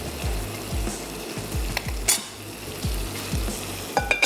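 A reddish mixture fries and is stirred in a pan, giving a constant close sizzle with a regular beat of soft low scrapes and thumps, plus a couple of sharper metallic clicks, and no voices.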